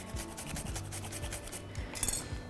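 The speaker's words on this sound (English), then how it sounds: "Then we need freshly grated nutmeg. I'm gonna grate this till it looks like about 1/4 teaspoon" Fresh whole nutmeg rasped against a grater for a muffin batter, a quiet run of short, rhythmic scraping strokes close by with no talking.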